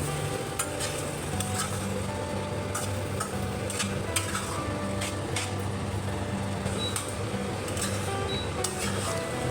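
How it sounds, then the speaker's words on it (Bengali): A spoon stirs khichdi in a pot, scraping and knocking in an irregular rhythm over a low, steady sizzle, up close with no talk. "এবার নাড়াচাড়া করতে হবে।"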